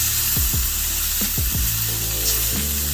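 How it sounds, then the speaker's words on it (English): Ribeye steaks searing in a cast iron pan, a loud, steady sizzle filling the background with a few low thumps and scrapes as the meat is turned over. "We're gonna get this other bad boy flipped over."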